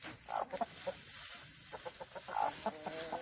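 Hens cluck in a chicken coop in a steady run of short, close calls that rise into busier bursts of clucking near the start and again toward the end.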